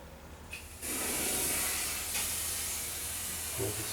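Eastwood internal frame coating sprays from an aerosol can inside the frame rail of a 1977 Camaro Z28, a loud steady hiss starting abruptly after a brief quiet moment and running with slight surges to the end.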